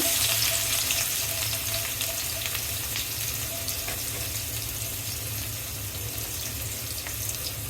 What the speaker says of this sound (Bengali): তেল গরম হয়েছে। এখন দিয়ে দিব পেঁয়াজ কুচি